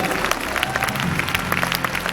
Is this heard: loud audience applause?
yes